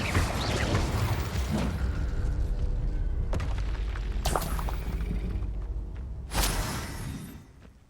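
Confringo fire spell blasts from Hogwarts Legacy, a sharp boom near the start followed by two more loud bursts with crackling mechanical rumble underneath, all close and punchy, no voices.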